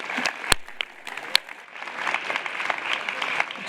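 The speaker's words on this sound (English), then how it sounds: "Give him a big warm applause." Audience applause closes out a speaker at a European conference's closing show, a broad crackling wash of many hands clapping steadily, with a couple of sharp loud claps standing out near the start.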